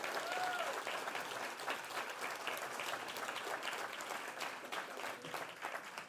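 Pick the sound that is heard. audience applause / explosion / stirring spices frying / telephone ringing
audience applause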